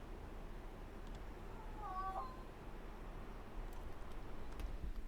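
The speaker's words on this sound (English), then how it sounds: "Just a moment, I gotta deal with that cat." A cat meows once, faint and drawn out, in the middle of a steady low hiss, with no other clear sounds.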